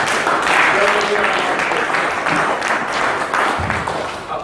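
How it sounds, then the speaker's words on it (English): An audience clapping for a doctor after a health talk, a dense, loud round of applause sustained throughout, with voices mixed in. "Let's give the doctor a clap."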